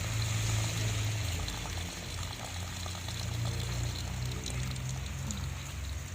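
Water pours steadily from a garden tap used for watering grapevines on rocky ground, a soft continuous splashing flow heard fairly faintly with low rumble beneath and no voices.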